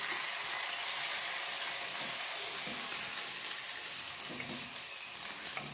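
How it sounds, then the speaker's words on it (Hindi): Chicken pieces fry in hot refined oil in a kadai, a steady close-up hiss and crackle that stays even and unbroken throughout. "एया आमि एतिया मांसखिनि केराहित दिबले लैछो, केराहित अलरेडी तेल गरम होइ आछे"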